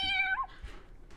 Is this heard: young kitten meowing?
yes